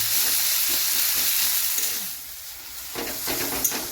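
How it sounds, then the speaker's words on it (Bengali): Onions fry in oil over a high flame with a loud, continuous sizzle and occasional stirring scrapes, briefly easing before picking up again. "এবার এই পেঁয়াজটাকে আমি লালচে লালচে করে ভেজে নেব।"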